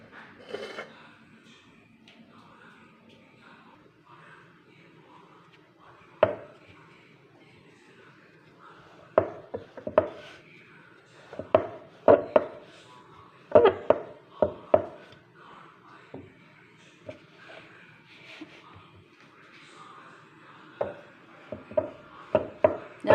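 Chapati dough is rolled out one-handed with a wooden rolling pin, producing irregular close knocks and clacks of the pin against the board, with softer rubbing between taps in a quiet kitchen.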